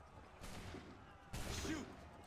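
Two separate musket volleys go off in an Assassin's Creed III battle, each a sudden loud crackling burst that dies away. The pair sits against a quiet background, with a brief voice-like tone after the second.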